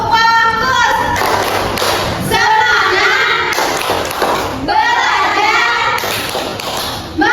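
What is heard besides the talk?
rhythmic hand clapping in a classroom 'tepuk fokus' clap routine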